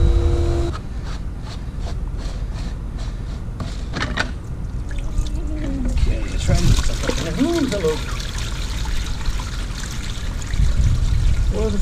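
Water flushes through a purifier to clear trapped debris, making a steady, fairly loud flowing trickle that runs throughout while a person talks over it.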